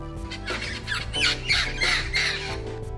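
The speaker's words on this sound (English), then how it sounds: "Parrot." Harsh, repeated parrot squawks in rapid succession, loud and close over a steady low background hum, with no talking.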